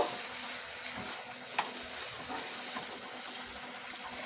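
Turmeric, chili powder and salt fry together in a pan for Bengali rui fish curry. A faint, steady sizzle continues with a few light scrapes and clicks, with no voices.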